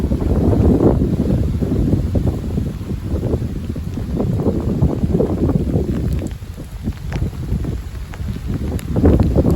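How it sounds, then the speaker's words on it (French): Steady, blustery north wind roars across the microphone throughout, a dense low rumble with gusts rising and easing, no voices, during a spring sleet shower. "Parce que là on a du vent."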